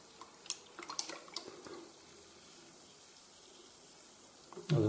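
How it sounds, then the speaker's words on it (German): Hydrochloric acid fizzing and bubbling inside a toilet cistern during descaling, heard as faint scattered crackles and pops early on, then a quiet stretch before a louder burst of noise at the very end. "Also noch sprudelt es hier sehr stark."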